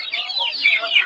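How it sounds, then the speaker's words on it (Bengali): Native chicken chicks at a market peep in a quick run of high, thin chirps, close and clear, with no other sound around them. "দেখতে পাচ্ছেন হচ্ছে দেশি মুরগি বাচ্চা"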